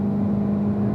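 A race car on a track under applied throttle gives a steady, loud, close engine drone with a strong low hum, holding constant with no voices.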